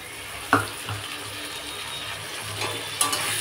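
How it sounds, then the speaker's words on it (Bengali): Jackfruit seeds fry with snake gourd in a pan under a steady low sizzle, broken by a few sharp scraping clicks of stirring. "এই দেখুন, এবার কাঁঠালের বীজটা নাড়াচাড়া করলাম"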